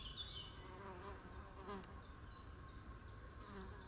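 A bumblebee forages on comfrey flowers outdoors, its faint, steady buzzing hum running throughout with light bird chirps in the background.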